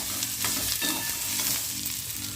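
Shredded cabbage fries and sizzles in a pan for a mixed-vegetable sambharo, with a continuous crackling hiss and occasional stirring, no voices.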